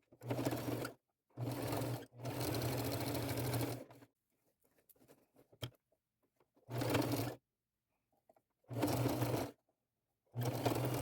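Four short bursts of a sewing machine running loud and close as it stitches seams on a denim skirt and blouse outfit, with quiet gaps and faint fabric handling between them.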